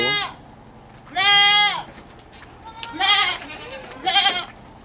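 Goats bleat loudly and close by, about four separate calls with short gaps between them, at a livestock seller's pen holding large breeding does.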